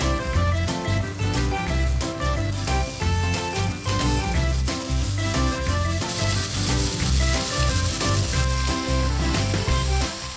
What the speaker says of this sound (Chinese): 倒油，大火快速地把猪大排表面煎至金黄